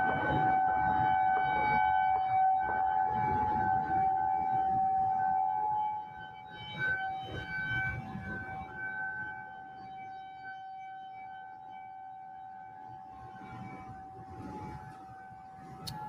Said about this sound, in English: That was an alert siren put out in the CDC area.